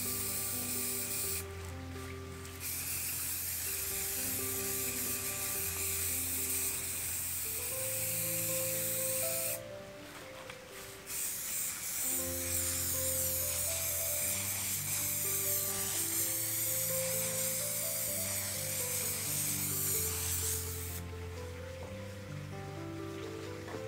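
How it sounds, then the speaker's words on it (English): An aerosol can of spray varnish sprays onto abstract fluid-pour artwork in three long hissing bursts, near and steady, with a low musical tone sounding underneath throughout. "That's when you tend to get some overspray or underspray, when it's towards the end of a can."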